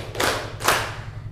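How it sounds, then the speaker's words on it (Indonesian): Two separate hand claps, each a sharp, fairly loud smack, ring out at a classroom orientation session against a steady low background hum. "Saya ulangi, tepuk bebas."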